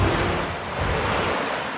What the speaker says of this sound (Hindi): तो यही एक वाटरफॉल है